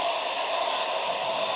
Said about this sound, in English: I'm just going to speed it up with the hairdryer, put it on speed 1 again